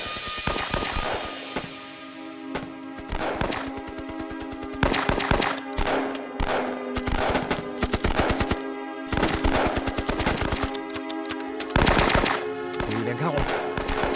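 Sustained machine gun fire in a Chinese war film battle against Japanese troops and tanks, with rapid automatic bursts and overlapping gunshots that repeat in loud waves over a steady droning tone.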